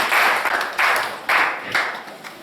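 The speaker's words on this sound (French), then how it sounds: "Applaudissez pour le Seigneur Jésus." Church congregation clapping in bursts of applause, four loud surges of dense hand claps close by, each swelling and fading.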